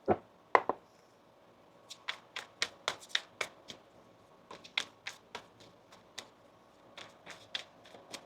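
Crisp bursts of tarot cards being shuffled and riffled, a louder flurry at the start followed by a rapid series of sharp slaps and flicks, close up.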